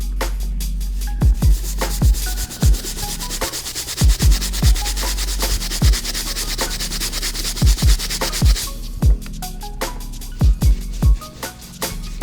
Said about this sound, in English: we're gonna be using the brass bristle brush for the white areas on the sole as well